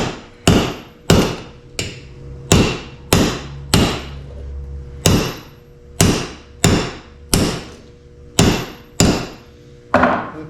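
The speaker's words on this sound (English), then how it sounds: "I'm going to set it on my anvil, and I'm just going to hit it." A mokume gane billet made from stacked quarters is hammered on an anvil: about fourteen sharp, ringing metal blows fall at a steady, unhurried rhythm, loud and close.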